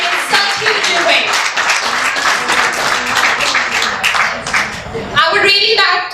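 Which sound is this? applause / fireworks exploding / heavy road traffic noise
applause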